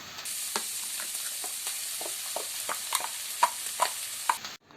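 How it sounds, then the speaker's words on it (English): Ground paste gets stirred into sizzling boti curry, a continuous frying hiss under repeated spoon scrapes and sharp metallic clinks against the pan, ending abruptly. "Now add the ground paste to the boti."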